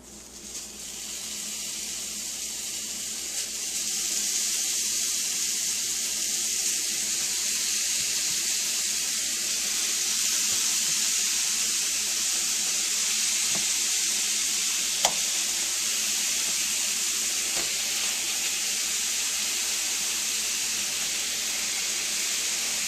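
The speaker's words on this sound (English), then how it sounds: "Cooking our little Salisbury steaks." Salisbury steaks fry in a pan with a dense, continuous sizzle that holds steady, broken by one small tap near the end.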